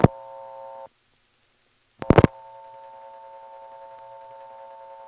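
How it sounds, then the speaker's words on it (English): Pulsating tone from a callback circuit on a step-by-step telephone exchange in Ramseur, North Carolina, 1977: a steady buzzing tone breaks off for about a second, then a loud click burst brings it back, and it carries on alone. "It doesn't sound like the pulsating noise here is going to stop."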